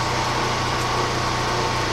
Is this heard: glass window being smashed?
no